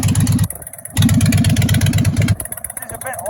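A Harley-Davidson bagger with loud aftermarket exhausts idles close by in a lumpy, pulsing rumble that drops away briefly and returns, while someone talks over it.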